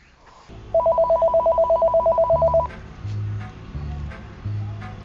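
A telephone ringtone warbles in a fast, steady electronic trill for about two seconds, loud and close, followed by a low hum and muffled background sounds; no one speaks over the ring.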